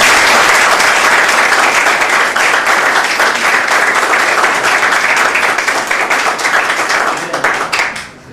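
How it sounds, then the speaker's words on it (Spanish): Strong, sustained applause from an audience at a political talk, loud and dense across the whole stretch, tapering off slightly right at the end. "hay que recibirlo con un fuerte aplauso"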